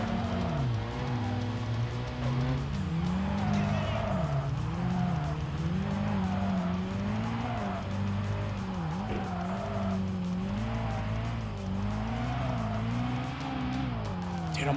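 Racing car from Tokyo Xtreme Racer Drift 2 roars steadily at close range, its engine note rising and falling through gear shifts while tires squeal and skid through corners, continuous and loud with no talk over it.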